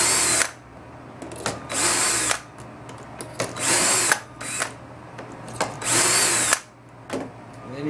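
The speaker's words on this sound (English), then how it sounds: "then you drill these with the drill bit that fits" A power drill bores holes in soft wood while building a little free library: four loud whirring bursts of about a second each, separated by pauses with small clicks and handling noises, close by.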